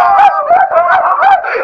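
A dog howls loudly and close by in several drawn-out, wavering yowls that run together with barely a pause. No voices are heard.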